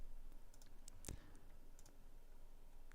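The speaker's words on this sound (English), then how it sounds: "I can just type it." Faint, sparse clicks of a computer keyboard during typing, a few soft taps and one sharper key strike in a quiet room, with nobody speaking.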